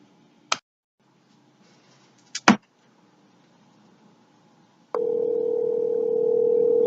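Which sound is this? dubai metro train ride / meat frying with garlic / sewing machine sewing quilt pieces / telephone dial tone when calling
telephone dial tone when calling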